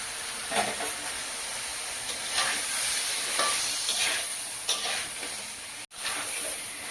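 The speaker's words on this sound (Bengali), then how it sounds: "লবণটা দিয়ে ভালোভাবে কষিয়ে নেব" Fish with bottle gourd stems, papaya and potato is stir-fried with salt in a pan: a steady hissing sizzle close by, broken by several scraping stir strokes at irregular intervals, with no voices.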